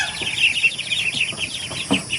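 Chickens on a small Filipino backyard farm plot, with repeated clucks and chirpy calls close by, steady through the moment without talk.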